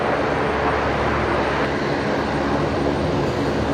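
A passenger airplane taking off from runway 19 left at Brisbane Airport, heard as a loud, steady broadband engine roar that holds without a break from start to finish, with no voices.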